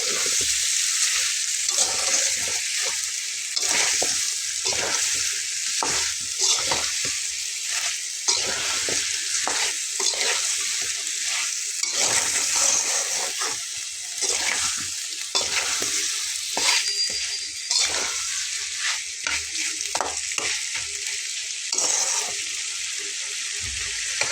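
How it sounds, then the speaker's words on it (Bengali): Potatoes and beef tripe sauté in a pan for a bhuna-style curry, a steady loud sizzle running throughout with repeated scraping stir strokes, no talking. "এখন আলুটা দিয়েও আমি আরও কিছুক্ষণ কষিয়ে নেব।"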